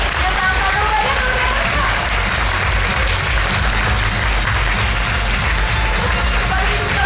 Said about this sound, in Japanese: 皆さん今一度大きな拍手お願いします